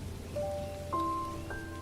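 Rain falling as a soft, steady patter, faint beneath a few sustained musical tones.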